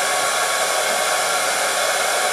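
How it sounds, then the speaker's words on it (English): A hair dryer blows steadily and loudly up close, drying paint on a Lanier Blueback swimbait, a constant even whoosh with no talk. "we can get the hair dryer back out again"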